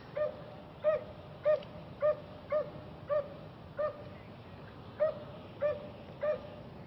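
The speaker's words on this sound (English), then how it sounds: "these poor dogs, they've been whining and crying" Dogs stranded in Florida floodwater whimper and whine in a repeated series of short, high cries at roughly half-second intervals, steady and moderately close over a hissing background.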